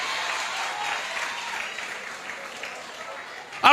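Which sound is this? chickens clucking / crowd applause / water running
crowd applause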